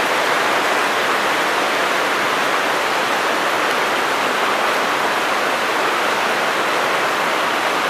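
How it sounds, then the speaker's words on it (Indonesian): Steady rain falling outdoors during a fishing trip, a dense continuous hiss without pauses that holds at an even, fairly loud level throughout, with no talk. "Ada hujan."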